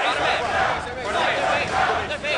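A large crowd at a paintball match in Anaheim chants together in a dense, continuous roar, loud and sustained with rhythmic swells, no single voice standing out.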